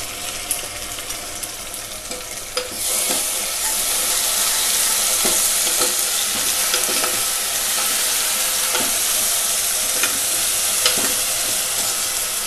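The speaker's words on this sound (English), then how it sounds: "Fry it along with the onions till it gets golden brown color." Ginger garlic paste frying with onions in hot oil for gongura mutton, a steady loud sizzle that swells after a few seconds, broken by occasional scraping clicks of a stirring spoon.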